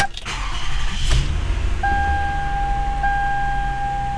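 A 2006 Toyota Sienna minivan cranks and its engine catches, followed by a steady idle with a faint tonal chime over the low rumble, heard up close with no talking.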